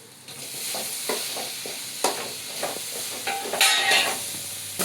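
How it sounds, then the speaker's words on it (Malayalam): Squid roast masala with tomato is sautéed in a pan, with a moderate sizzle under scraping and tapping stirring strokes that grow busier toward the end. "ഇനി എല്ലാം ഒന്ന് നന്നായിട്ട് വഴറ്റിയെടുക്കുക."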